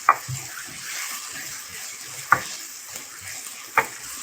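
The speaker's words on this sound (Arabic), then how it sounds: "ان انا بحمر في زيت مش في سمنه، ثانيا بحط الاول القوانص" Chicken gizzards fry in oil in a pan, giving a steady soft sizzle broken by three sharp metallic clinks of a utensil stirring against the pan, close up with no talk.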